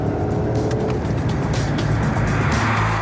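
Porsche Panamera with a V8 petrol direct-injection engine drives steadily, a loud, continuous engine and road roar with some tyre noise and no talking.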